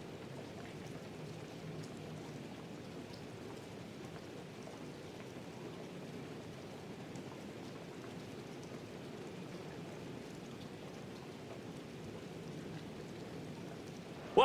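Steady rain falls during a Madden NFL 24 football game, a constant broadband hiss of drops at a moderate, even level throughout, with no voices.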